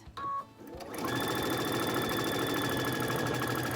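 A sewing machine stitches a patchwork quilt block, starting after a few brief clicks and handling noises, then running at a steady, fast, whirring hum up close.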